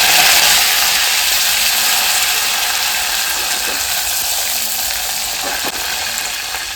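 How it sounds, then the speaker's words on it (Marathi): Garlic and curry leaves sizzle in hot oil in a home kitchen, a steady, close, bright frying hiss with faint scrapes, fading slightly over the last seconds. "आपण टाकून घेऊ लगेच लसूण, इकडे टाकू कढीपत्ता"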